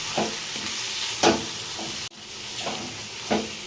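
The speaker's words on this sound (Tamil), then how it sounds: "உருளைக்கிழங்கு நல்லா உப்பு பிடிக்கிற மாதிரி நல்லா கிளறி விட்டுக்கலாம்" Potatoes with salt and garlic are stirred in a hot pan. A constant sizzle runs throughout, with a few louder scraping strokes of the spoon at intervals, close and without any talking.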